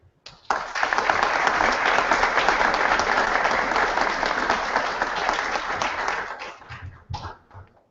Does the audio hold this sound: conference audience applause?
yes